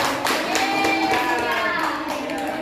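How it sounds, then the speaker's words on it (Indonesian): Classroom children clap for the winner of a poetry contest, a short burst of many small hands clapping close by, mixed with kids' voices and a tonal sound running underneath. "Tepuk tangan. Semuanya."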